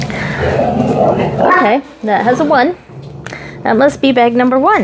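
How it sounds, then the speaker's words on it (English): A pet dog barks and yips in short bursts at close range, mixed with a person speaking steadily through the same moments. "Sorry about my dog."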